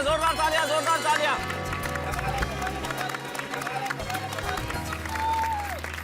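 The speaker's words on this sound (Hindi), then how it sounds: "एक बार जोरदार तालियां, जोरदार तालियां, जोरदार तालियां।" An audience claps and cheers in a loose burst over music, with crowd murmur and a voice talking over the noise.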